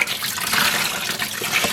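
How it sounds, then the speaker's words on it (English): Water draining from a yarn dye pot used for dyeing cotton and wool yarn, a steady close-up rushing and gurgling flow with no talking. "let's drain this water"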